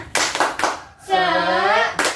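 A classroom 'tepuk semangat' clap chant in an Indonesian primary school social studies lesson: a few sharp group claps, then a long drawn-out chanted word from the group, followed by another clap.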